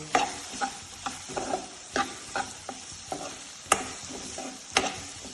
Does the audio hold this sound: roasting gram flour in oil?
yes